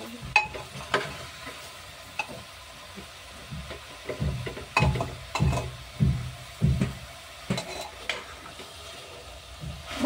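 Vegetables and chicken feet sizzle in a pan for Kolkata-style chicken feet soup, with a spoon scraping and stirring in a quick regular rhythm through the middle of the clip over a steady frying hiss.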